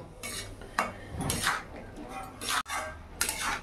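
A utensil stirs chopped ash gourd with chili powder and spices in a pan, giving intermittent scraping and clinking strokes against the metal, with short pauses between the bursts.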